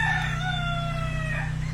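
A rooster crows once in a long, wavering call on a livestock farm in Saudi Arabia, heard close over a steady low mechanical hum.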